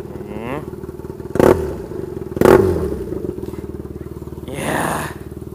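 A BMW R nineT motorcycle fitted with a new custom exhaust idles with a steady low throb, broken by two sharp throttle blips and a later rev swell, recorded close and loud with no talk.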